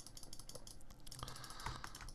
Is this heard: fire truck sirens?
no